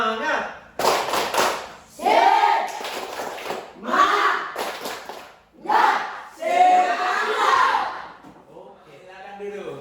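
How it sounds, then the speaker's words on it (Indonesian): A classroom group stands and does a rhythmic spirit clap, loud chanting voices in bursts mixed with sharp collective claps and thumps, several rounds close together. "tepuk semangat"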